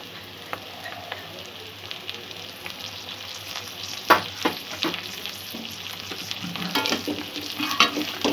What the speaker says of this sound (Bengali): এখানে কিছুটা লাল ছোলা নিয়েছি, ছোলাটা দিয়ে দেবো